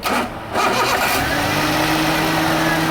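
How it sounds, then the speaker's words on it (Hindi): A Toyota XLI car with a 1NZ-FE engine cranks briefly, catches and settles into a steady idle, loud and close. "गाड़ी स्टार्ट करें"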